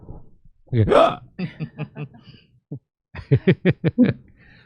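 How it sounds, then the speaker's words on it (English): A person hiccups a few times in quick, sharp bursts, with a short catch of breath and a snicker-like run of clipped vocal spasms near the end, close up in a quiet room. "It was just a sarcastic hiccup."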